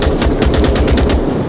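Weapon gunfire in the Onward VR game: a loud, rapid burst of automatic shots fired in quick succession for over a second, close and harsh, with no talking.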